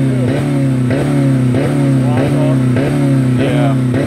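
A 2000 Dodge Neon engine runs without oil or coolant and bangs against its rev limiter, a loud close buzzing drone that cuts out and surges again in a regular pulse about every half second.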